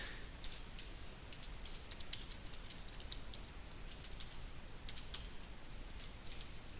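Someone types on a computer keyboard while coding a Java game grid. Fast, light key clicks patter on steadily throughout, quiet and close, with no talking.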